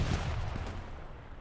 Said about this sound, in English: Grenades, a factor here, both smoke and frag. Just going off left and right.